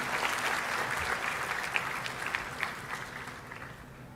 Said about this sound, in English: please have a huge round of applause for Professor White